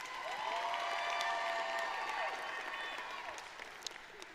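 Audience applause at the 2025 Mound Street Academy graduation ceremony for students completing Ohio readiness standards, a steady broad wash of clapping from a large crowd that swells, holds, then thins toward the end, with faint voices mixed in.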